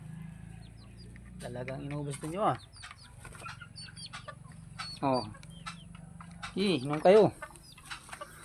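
Chickens cluck and call in short bursts while eating and drinking from a feed and water dish, close by, with a voice talking to them over the birds.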